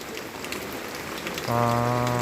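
Heavy rain pours steadily on a dark, wet day in rural Thailand, a dense even hiss close by. In the last second a sustained tonal hum joins the rain.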